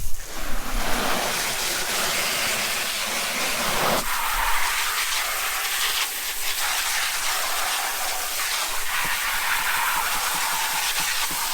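Water from a hose sprays onto a yard bucket shelf as a loud, continuous hiss. It lasts throughout, and the spray shifts slightly in tone partway through.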